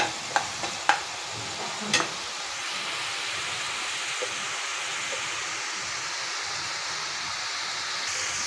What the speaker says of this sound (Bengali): যতক্ষণ না মশলা থেকে তেল ছাড়বে ততক্ষণ আমি এভাবে একটু পরপর নেড়ে চেড়ে কষিয়ে নিচ্ছি